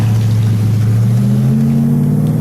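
A yellow 1966 Dodge Charger with a 426 Hemi V8 revs loud and close, a deep throbbing roar that climbs steadily in pitch across a few seconds, alone with no voices.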